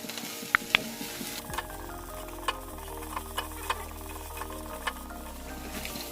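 Sugar is stirred into a cauliflower filling for singara in a pan, giving a soft continuous sizzle broken by light, sharp clinks of the spoon at irregular intervals, close and fairly quiet.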